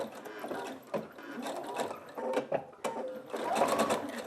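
A sewing machine stitches back and forth over ribbon on a small fabric sachet, giving close, rapid mechanical whirring bursts with brief pauses between passes and no talk.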